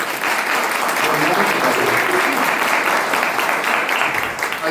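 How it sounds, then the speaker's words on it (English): Loud, sustained applause from a crowd fills the whole stretch, dense clapping with a few voices mixed in. "give a round of applause again"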